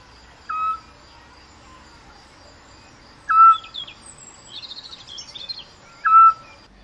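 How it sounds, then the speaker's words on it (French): A Eurasian scops owl gives three short, clear, single whistled notes spaced a few seconds apart, with a brief burst of twittering birdsong in between and faint insect buzz behind. "Cette note, que j'estime joyeuse, claire, est typique du petit duc"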